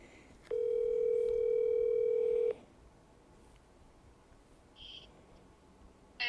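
A telephone line gives a clean, loud steady dial tone for about two seconds as a call is placed, then cuts off to quiet line hiss with a couple of faint electronic beeps.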